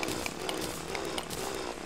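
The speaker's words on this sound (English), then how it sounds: "It's going to be so much quicker if I just use the drill to kill these spores." A mining drill whirs in Terraria, a steady buzzing whine running throughout at even loudness, cutting into spores while underwater, with game effects sparkling over it.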